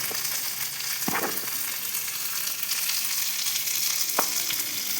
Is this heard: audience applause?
no